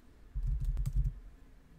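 A quick run of keystrokes clatters on a computer keyboard, about a dozen soft clicks in under a second, close and fairly quiet.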